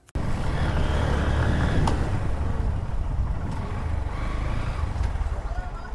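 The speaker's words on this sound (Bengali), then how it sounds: "বাইকের সাউন্ড খুবই স্মুথ এবং খুবই টান বাইকে" A second-hand motorcycle rides along with a continuous, loud engine drone and wind-blown road roar that holds steady throughout after a sudden start.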